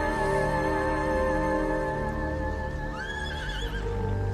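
A horse neighs with a quavering whinny in a video game over a steady droning music bed, the call rising briefly near the end.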